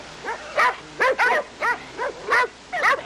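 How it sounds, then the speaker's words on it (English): Several dogs bark and yip in quick, uneven bursts, near and fairly loud, their calls overlapping with no pause for most of the stretch. "I've never heard so many dogs."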